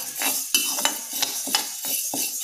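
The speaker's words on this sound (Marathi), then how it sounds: "इथे तुम्ही बघू शकता आपली मुगाची डाळसुद्धा छान भाजून तयार झालेली आहे।" Moong dal dry-roasting in a pan on low heat while being stirred, with rhythmic scraping strokes about every third of a second and a dry, rustling texture.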